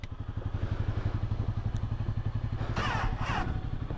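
A motorcycle with a battery drained by the cold, its starter turning over in a rapid labored chug that never catches, then a couple of brief rattling bursts on a snowy roadside.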